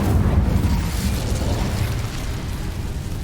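Incendio fire spell cast in Hogwarts Legacy, a loud, sustained roaring burst with dense low rumble that holds steady for several seconds without any voices.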